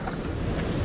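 Strong wind roars steadily across the microphone in a brief, loud, continuous gust, recorded outdoors on a motorcycle tour in Pagudpud near Patapat Bridge.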